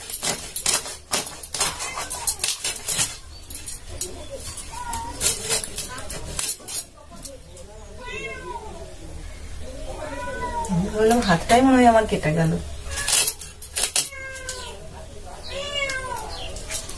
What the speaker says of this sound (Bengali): এই বেড়ালটাও আছে সেরকম, মাছ কাটতে বসলে হচ্ছে চিৎকার করবে